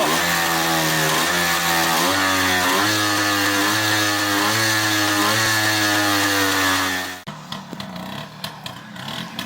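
A Fantic 243 trials bike's two-stroke engine runs loud and close, burning off oil with a buzzy, wavering revving note for about seven seconds before it cuts out abruptly, leaving quieter scattered clicks and handling noises.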